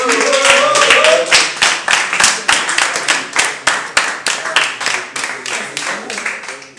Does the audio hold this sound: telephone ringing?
no